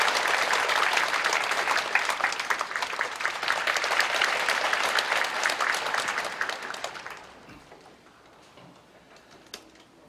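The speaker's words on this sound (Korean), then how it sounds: "박수로 맞이하시겠습니다" A church assembly at the World Pentecostal Conference in Yeouido Full Gospel Church claps to welcome a speaker, sustained crowd applause that fades away after about seven seconds into quiet room tone.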